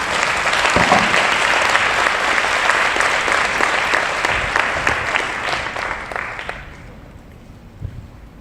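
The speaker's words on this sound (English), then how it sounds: "A warm round of applause, please." Sustained audience applause greets a panel at a Study Hall LA event, a dense steady roar of many clapping hands that thins and fades out toward the end, leaving a brief quiet tail.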